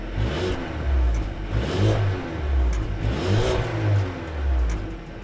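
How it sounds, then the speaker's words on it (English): A Mercedes-Benz A220 with a turbocharged 2-liter inline four-cylinder revs repeatedly from outside the car, a coarse, close engine note rising and falling in about four even pulses. "an unusually coarse engine sound when standing outside the car"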